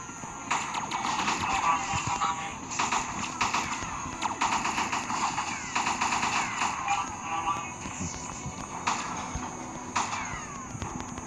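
Rapid gunfire from the FPS game Space Armor 2 rattles in dense bursts over a busy layer of game effects, loud and continuous, with brief pauses between volleys.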